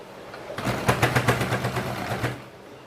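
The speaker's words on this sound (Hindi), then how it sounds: "अब देखिए यहाँ पे हम सिलाई लगाना शुरू करते हैं।" Sewing machine stitching the edge of a cloth market bag, a short run of close, rapid rhythmic mechanical clatter lasting under two seconds before stopping, with no talking.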